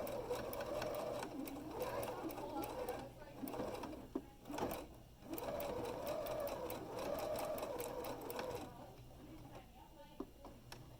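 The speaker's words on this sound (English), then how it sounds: "We're just going nice and slow, reverse stitching" A sewing machine slowly reverse stitching a drawstring bag whirs in several short runs with brief stops and clicks, close, with a voice talking over it.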